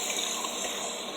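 Hot water streams steadily from a kitchen tap into a sink during dishwashing, a close, continuous broadband rush with no pauses and no talking.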